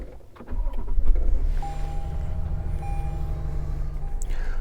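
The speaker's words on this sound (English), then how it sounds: "Push button start." A 2022 Toyota Tundra pickup starts by push button, its engine catching and settling into a steady low idle heard from inside the cab, with a faint electronic tone running over it.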